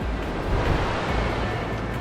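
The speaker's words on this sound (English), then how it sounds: "This is the river." Kern River rushing past a small hot spring along the High Sierra Trail, a steady, loud broadband roar of flowing water heard close up with no voices.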